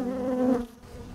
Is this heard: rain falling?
no